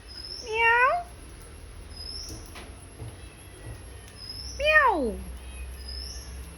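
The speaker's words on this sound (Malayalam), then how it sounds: "എവിടെ നിന്നോ കയറി വന്ന ഒരു പൂച്ചയാണ് കേട്ടോ." Cat that wandered into a house yard, giving two clear meows about four seconds apart, moderately close, over faint outdoor background with light bird chirps.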